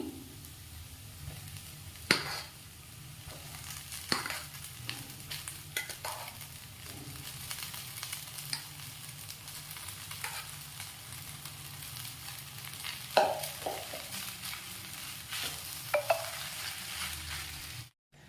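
A spatula stirs and mixes egg rice in a hot pan, with steady scraping and soft sizzling and a few sharper clinks against the pan, close and without talk.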